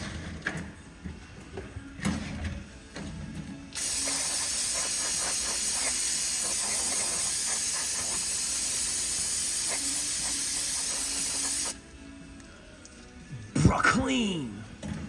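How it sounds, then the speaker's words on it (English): Brake cleaner sprayed on a Ford Super Duty wheel hub during wheel bearing work: one long loud steady hiss lasting about eight seconds, with brief handling noises before and after. "Go ahead and give this a little brake clean, get that all nasty out."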